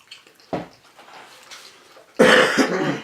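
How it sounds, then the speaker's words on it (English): Coughing from a person at home, a short cough burst near the start followed by a louder, harsher cough fit toward the end, heard close up with no talk. "I've been coughing a lot lately"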